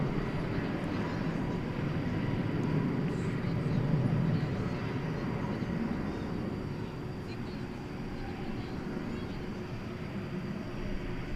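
Two airliners take off together at DFW Airport on a Tuesday night, a steady broad jet roar swelling toward the middle and easing slightly, distant and continuous under faint background noise.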